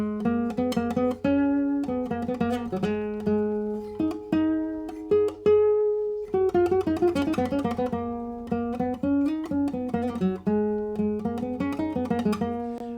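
Plucked nylon-string classical guitar plays a steady melodic passage with bass notes and chords, clear and close, no voices.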